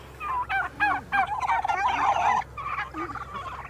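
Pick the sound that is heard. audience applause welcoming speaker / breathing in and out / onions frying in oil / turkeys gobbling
turkeys gobbling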